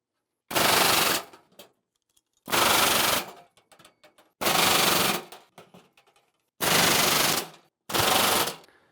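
Rivets are set one after another into aluminum channel on a vintage camper baggage door, five loud pneumatic rattling bursts of under a second each, separated by pauses with faint clicks and handling noise.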